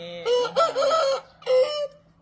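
A seven-month-old young fighting cock crows on a Thai breeding farm: a loud, close, drawn-out crow in two long phrases with a brief pause between, the second phrase shorter.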